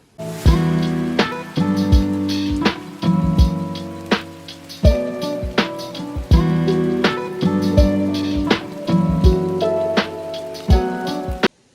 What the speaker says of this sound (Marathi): आम्ही आलो आणि पाऊस चालू झालाय